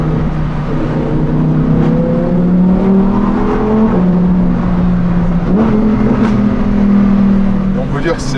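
Steady, loud engine hum of a Lamborghini Huracan STO heard from inside the lightly insulated cabin, with its tone rising and dipping slightly as the car moves and voices talking over it.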